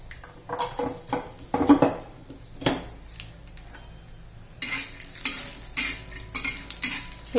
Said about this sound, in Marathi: आता खोबरं भाजून घेऊया आपण। थोडंसं तेल घालूया।